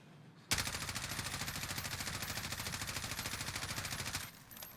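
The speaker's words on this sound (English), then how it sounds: "let me shoot again right here in the middle with it off" Sustained rapid automatic gunfire from a shooter video game, a steady burst of evenly spaced shots lasting several seconds and then cutting off abruptly, with a faint low hum before and after.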